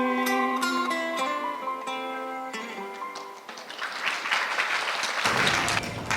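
Applause from an audience after a song at a wedding celebration. Music with clear tones fades out while the clapping rises into a dense, sustained round nearby.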